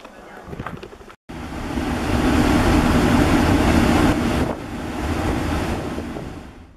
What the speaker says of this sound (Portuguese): Conforme as ondas batem aqui embaixo, emite esse som.